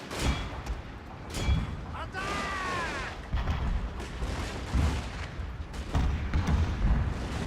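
Artillery fire in the video game Shogun 2: Fall of the Samurai: repeated heavy booms and rumbling blasts over a continuous battle din, with a brief whistling tone partway through and a voice talking under it.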